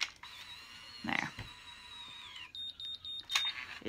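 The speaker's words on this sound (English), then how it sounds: "when it beeps like that, you should really take it out" A ConAir Infinity hair curler gives a few short, thin electronic beeps, quiet and close, mixed with faint handling noise and a brief murmur of voice.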